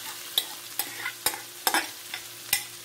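Diced carrot tipped into a pan of browning chicken with corn and peas, a series of close, sharp clatters and stirring knocks over a faint sizzle, with no voices.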